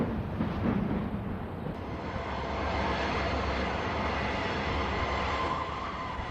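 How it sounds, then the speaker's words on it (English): A westbound Western Pacific freight with pooled Union Pacific locomotives and a caboose rumbles past steadily, a continuous broadband roar of wheels and cars that stays loud and close for the whole stretch. "This westbound with UP power and caboose is a WP train with pooled power."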